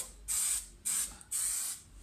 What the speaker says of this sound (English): I'm going to spray the edge of the worktop